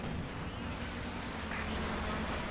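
Steady, dense rumble of artillery fire and distant blasts in the World War II strategy game Company of Heroes 2, a continuous booming wash with no clear single shot or talking.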